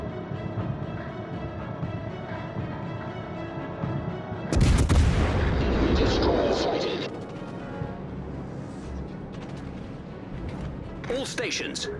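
Naval guns in World of Warships: Legends fire at an enemy warship: a sudden loud broadside blast partway through rolls into a rumbling boom, with background music and a spoken voice running underneath.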